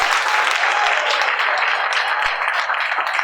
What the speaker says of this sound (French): je vous demande d'acclamer pour nos deux familles